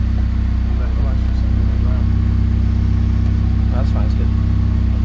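A car engine runs at a steady idle, loud and close with a constant low rumble throughout, the clutch pressed in and the car in gear, with faint indistinct sounds of movement over it.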